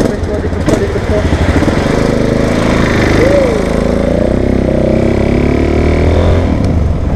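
Motorcycle engine running loudly throughout, its drone steady with a rising rev partway through, heard from the bike itself with a passenger aboard; people talk over it.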